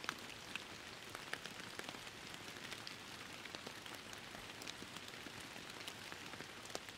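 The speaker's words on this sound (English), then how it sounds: "You like the rain, do you?" Steady rain falls in the fishing video game Fishing Planet, a dense, even patter of drops that runs unbroken throughout with scattered sharper drip ticks and no voices.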